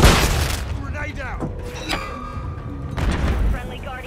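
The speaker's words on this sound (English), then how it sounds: "Throwing flash grenade." A flash grenade booms in Call of Duty Modern Warfare III multiplayer, a loud dull blast followed by ringing game effects, mixed with in-game voices and background combat noise.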